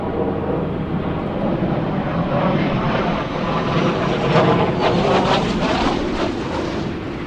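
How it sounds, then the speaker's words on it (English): Space Shuttle Atlantis on mission STS-122 touches down on runway 15 at Kennedy Space Center, a loud, steady rushing roar that swells slightly midway and fills the whole stretch without any voices. "Coming into touchdown on runway 15 at the Kennedy Space Center"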